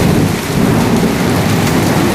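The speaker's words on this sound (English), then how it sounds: "I've never seen this much rain. There's a ton of lightning. There's a ton of hail." Torrential rain with lightning and hail pounds down in the Dallas–Fort Worth area, a loud, steady roar of downpour with thunder rumbling underneath and no pauses.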